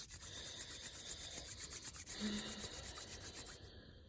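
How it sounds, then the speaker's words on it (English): Palms rubbing together for a hand massage in a cold room give a steady, close dry friction hiss with faint rhythmic strokes, alone, for about four seconds. "We'll rub our hands again."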